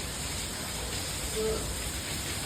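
Rain falls steadily as a soft, even hiss, faint and continuous throughout with no other distinct sounds.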